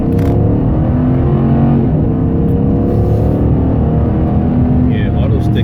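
A 2006 Dodge Charger R/T with the 5.7L HEMI accelerating in first gear using auto stick, heard loud from inside the car as engine tones climb steadily in pitch and hold a strong, sustained roar.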